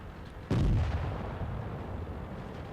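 A single heavy tank gun shot in World of Tanks, fired from the Pz.Sfl. V, booms sharply and then rolls off into a long, low rumbling decay.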